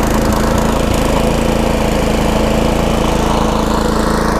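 A pull-start lawn engine runs steadily and loudly close by, a constant droning mower-like rumble with a faint knocking texture and no speech throughout.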